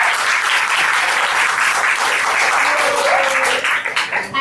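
Audience at a student paper presentation event breaks into loud, close applause with a few cheers, a sustained burst of clapping that tapers near the end.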